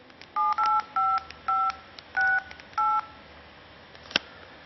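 Keypad tones from an HTC Touch Dual phone beep as a number is dialed, with six short, evenly spaced tones in a brisk sequence followed by a single sharp click, clear and close.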